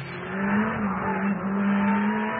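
A car engine roars loud and close at high speed on a racing circuit, holding a steady, strained drone as it pulls hard at around 200 km/h.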